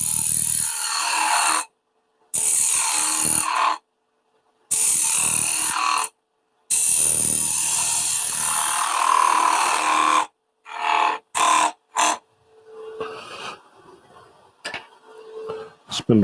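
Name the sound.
woodturning on a lathe, thinning a wooden snowman with gouge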